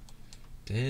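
A few faint, sparse clicks from a computer keyboard or mouse during play, followed at the end by a voice beginning to speak.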